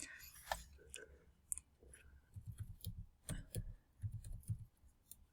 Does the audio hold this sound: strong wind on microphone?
no